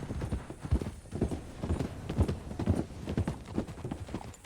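Horse hooves clip-clop at an even walking pace on a dirt road in the Red Dead Redemption 2 video game. Soft and steady, with no voices.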